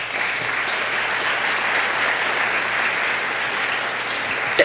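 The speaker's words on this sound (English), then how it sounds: "There's so much clapping going on today." Steady applause from an audience at a medical school pinning ceremony, a full crowd clapping continuously and evenly throughout with no talking over it.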